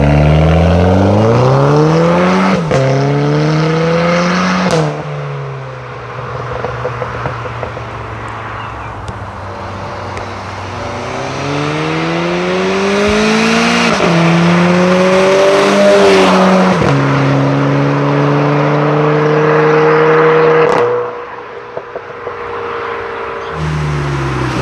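A Renault Clio 4 RS Trophy is driven hard, its engine revving up in repeated rising sweeps with sharp drops at each gear change, loud and close, with a tire squeal along the way.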